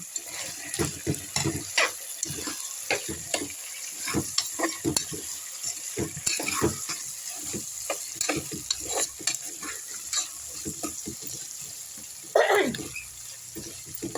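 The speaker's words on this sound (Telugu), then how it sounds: "కూర వేయించేసి చిక్కుడు గింజలండి, నాటు చిక్కుడు గింజలు ఒక కప్పు వేసాను." Curry with a cup of country broad bean seeds frying in a pan, heard as a constant sizzle under frequent rhythmic scrapes and clatters of a spoon stirring, close and fairly loud, with a sharper hiss near the end.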